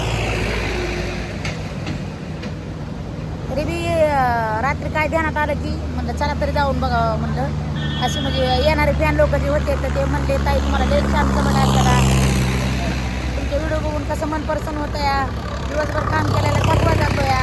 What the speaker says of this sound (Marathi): तुम्हाला या ट्रॅक्टरच्या आवाजाने ऐकू येईल का नाही